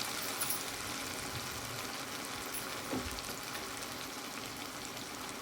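Tomatoes sizzle in oil as chili powder is stirred into a fish curry, a soft continuous frying hiss with faint crackles and a brief stirring knock near the middle.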